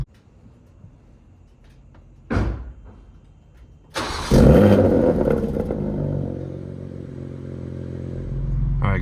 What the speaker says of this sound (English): super aggressive startup that you find with the M2CS DME Flash